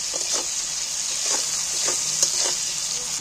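Tomato frying in oil in a pan gives a steady, bright sizzling hiss, punctuated by a few soft stirring scrapes, close and fairly quiet with no talk.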